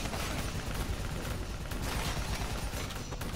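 Dense, continuous gunfire in a Call of Duty: Black Ops 3 campaign battle against an armored vehicle, a loud unbroken roar of rapid shots and blasts filling the whole moment.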